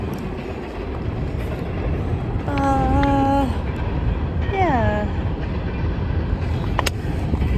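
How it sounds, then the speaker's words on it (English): A very busy train rumbles by over a creek along the Appalachian Trail near the Pennsylvania border, a steady low roar with drawn-out horn blasts midway, and a brief spoken word. "Very busy train going over there."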